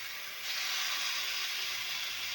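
Hilsa fish pieces hit hot oil in a wok tempered with nigella seeds, setting off a sudden bright, steady sizzle that holds close and loud with no talk.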